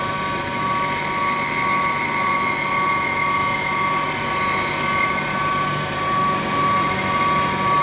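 An air compressor running continuously in the background of a workshop during a 6-71 supercharger rebuild, a loud steady mechanical drone with a constant tonal whine and rattling texture that never lets up.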